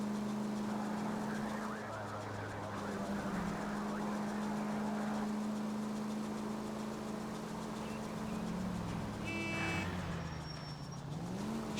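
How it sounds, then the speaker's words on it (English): A car engine runs in the video game L.A. Noire, a continuous low drone at steady level with faint tonal shifts near the end. "I can hear the engine going."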